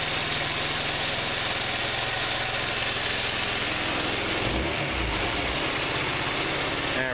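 A GY6 150cc scooter engine idling slightly high with the rear wheel spinning: a steady, loud, close mechanical drone with continuous rattling pulses, a brief low wobble near the end, no voices.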